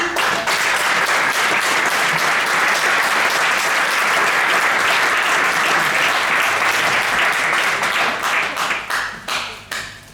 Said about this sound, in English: Big applause for Sophie.